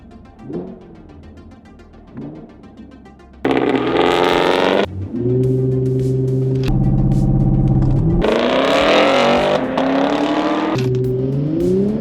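A 2022 Infiniti Q60 Red Sport and a 2022 Chevrolet Camaro LT1 launch and accelerate hard, loud engine roars climbing through gears with brief shift breaks after a quieter opening, close and sustained.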